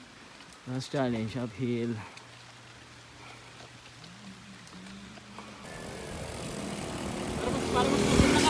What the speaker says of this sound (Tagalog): nabuto na kami ng Ambon